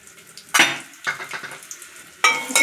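Onions frying in hot oil while being stirred in a pan for a Telugu black pepper rasam, with crackling sizzle and sharp bursts of scraping and clattering utensil strokes.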